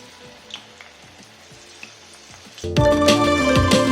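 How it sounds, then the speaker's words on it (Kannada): Battered cauliflower pieces dropped into hot oil, soft scattered pops and stirring at first, then a sudden loud burst of crackling sizzle as the gobi hits the oil and keeps frying. "ಕರಿಯಕ್ಕೆ ಸ್ಟಾರ್ಟ್ ಮಾಡೋಣ."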